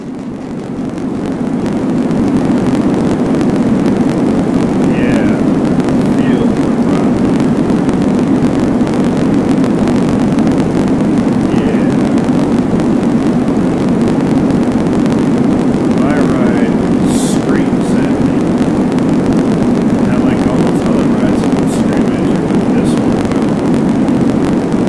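Perfect Nightmare rollercoaster ride, a loud continuous rush of wind and rumbling track noise close to the microphone, with occasional faint screams and voices breaking through.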